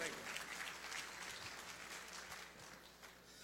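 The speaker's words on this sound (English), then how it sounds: "A round of applause for all our speakers." Faint applause from an audience, a soft continuous patter of clapping that gradually thins toward the end.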